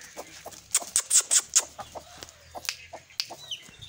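Hen and chicks on a farm give a burst of short, bright cheeps and clucks, several quick calls in a row followed by a few scattered peeps, fairly close with no talking.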